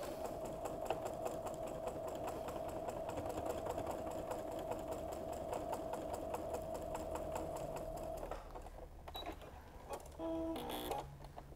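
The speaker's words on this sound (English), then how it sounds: "I'm gonna go back to the sewing machine with my quarter inch." A sewing machine runs steadily with a fast, even mechanical stitching rattle while quilting with a quarter-inch foot, then slows and stops with a few brief clicks and whirs.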